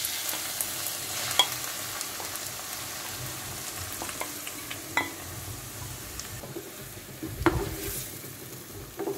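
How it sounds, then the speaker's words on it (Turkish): Steady sizzling of onions frying in hot olive oil, with a few scraping stirs and light clatter, close and continuous. "Kızan yağın içine 2 adet limetlik doğradığımız soğan ilave ediyoruz."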